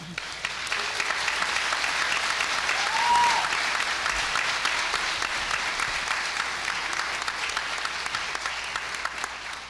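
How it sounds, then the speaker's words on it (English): Audience at a federal court naturalization ceremony gives a long, even round of applause, moderately distant in a large room, with a brief whistle and faint voices beneath the clapping. "A round of applause."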